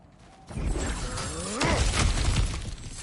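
Breakable objects in God of War Ragnarök shatter and crunch in a burst of smashing debris, with clattering pieces and a few ringing, sliding tones over a couple of seconds.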